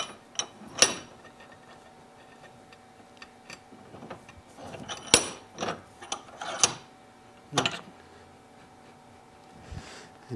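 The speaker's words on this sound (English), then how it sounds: "we're going to clamp it in with the vise" A bench vise clamps a fitting with a run of close metallic ratcheting clicks and sharp knocks in irregular bursts, separated by quiet pauses.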